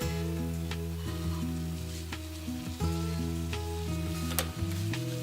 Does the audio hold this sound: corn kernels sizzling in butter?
yes